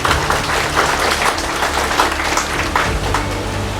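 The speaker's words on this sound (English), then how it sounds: "So let's give all of them a round of applause again." A round of applause for nurses at a Nurses Week event, close and loud continuous clapping from a crowd, sustained and even throughout with a low murmur underneath.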